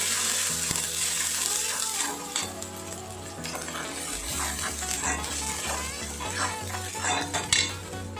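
Spices fry in oil in a pan while a utensil stirs and scrapes against the metal, with clinks and steady sizzling under a low background hum.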